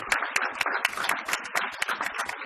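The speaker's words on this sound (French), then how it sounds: "Je leur demanderai de se lever pour qu'on puisse les applaudir" Scattered hands clapping in a small audience at a francophone immigration reflection day, fairly quiet and uneven, with sharp individual claps rather than a dense roar.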